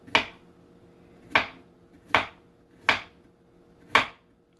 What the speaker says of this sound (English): you can use your knife to cut it to this size